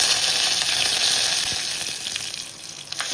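Curry leaves dropped into hot oil for a tempering, a loud dense hissing sizzle that holds steady and eases slightly toward the end, with no talk.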